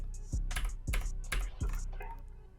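A few soft, close keyboard key presses with low thumps, spaced irregularly, in an otherwise quiet room.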